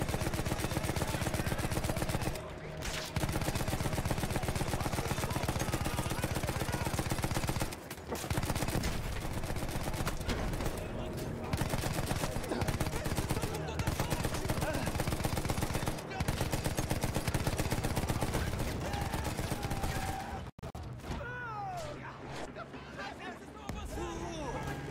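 Dense, continuous gunfire and bursts of machine-gun fire during a large battle in a war game, loud and sustained with brief gaps, while voices shout over it.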